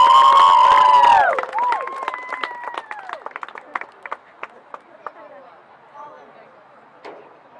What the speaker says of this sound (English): give a big round of applause for senior Knox Central High School football player